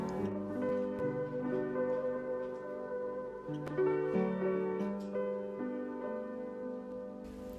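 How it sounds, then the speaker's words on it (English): Church bells on a Greek island ring out in slow, overlapping resonant strikes that swell and hang in the air, alone and fairly close. "The church bells go off at seemingly random hours"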